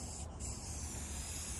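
A spray can sprays 1K paint onto a pro bass box lined with Rhino lining, giving a steady close hiss that runs the whole short stretch with a brief dip near the start.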